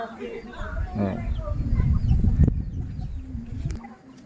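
Chickens cluck around a village yard in a Laotian Bru hill-tribe settlement, scattered short calls at moderate distance mixed with low rumbling background and occasional voices.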